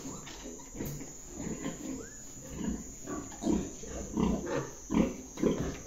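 Newborn purebred Pietrain piglets in a farrowing pen just after birth, a litter squealing and grunting in a steady pulsing chorus, fairly close and continuous over a constant high-pitched background hum.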